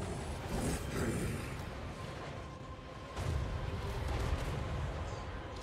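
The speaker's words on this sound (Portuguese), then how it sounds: "É bom que esse tiro dessa artilharia dá suprimido" Artillery fire rumbles in the Total War: Warhammer III video game, heavy booming blasts and rolling battle din that swell after a brief lull.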